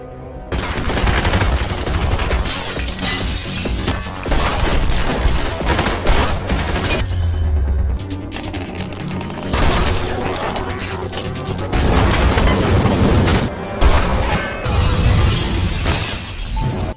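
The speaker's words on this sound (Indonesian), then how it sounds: "melalui jamnya, Don meledakkan pos 3 yang mengakibatkan anak buah Jabar terbunuh" Explosion of a guard post in an action film, a dense, loud barrage of shattering crashes and gunfire-like bursts running continuously with brief dips, close and dominant throughout.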